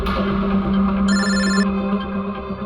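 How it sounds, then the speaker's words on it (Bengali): An incoming call rings on a telephone in a CID Bangla crime drama scene: a loud electronic ring bursts in briefly over a steady background music bed, with no voices. "যে কোনো সময় ওদের ফোন আসতে পারে।"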